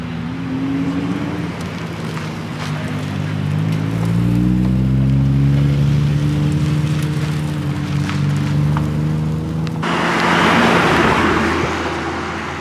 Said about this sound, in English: more and more Skylines roll in